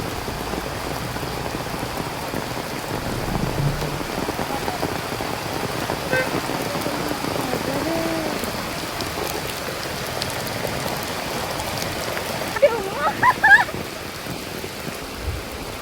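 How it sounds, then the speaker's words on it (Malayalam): Heavy rain in Peringkari pours down as floodwater rushes fast across a road beside a swollen small stream, a dense, steady roar of rain and flowing water with a few brief louder splashes near the end. "റോഡിൽ നിന്ന് വെള്ളം ഒഴുകുന്നത് നല്ല സ്പീഡുണ്ട്, നല്ല സ്പീഡിലാണ് ഒഴുകുന്നത്"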